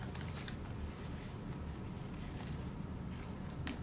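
A faint mechanical click as a sewing clip fastens a handbag gusset to its lining, a small isolated snap in a quiet room.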